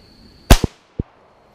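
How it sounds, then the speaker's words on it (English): Two sharp cracks from a Beretta U22 NEOS .22 pistol fired at a paper target on a shooting range, the first with a short echo tail, close and loud with quiet gaps around them. "shoot that right paper target and aim for the bullseye, the center of the body there, and just shoot all 10 rounds, and we'll see how you can do with this Beretta"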